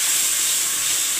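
Spiced masala frying in hot oil after a splash of water, cooking for chana paneer; a steady, loud hiss of steam and sizzle fills the whole moment with no pauses.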